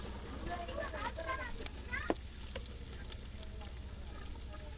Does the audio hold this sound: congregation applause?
no